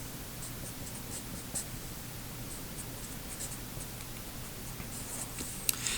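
A pen scratches steadily across paper as a math equation for a system of three linear equations is written out by hand, a close continuous scratching with small tapping strokes throughout.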